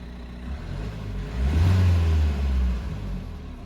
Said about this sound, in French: Mais le moteur est très silencieux. Donc quand vous démarrez, elle fait pas de bruit.